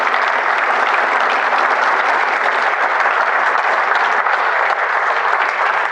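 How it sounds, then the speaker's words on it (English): A speaker series audience applauds the guest speaker Darrell Thompson, a loud, dense and unbroken ovation that continues at an even level throughout. "So how about a round of applause"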